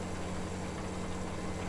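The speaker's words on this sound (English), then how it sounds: "Good old John Deere tractor." A John Deere tractor engine in Farming Simulator 17 on a South American farm map, a steady droning idle with a low hum that stays even throughout, no talk.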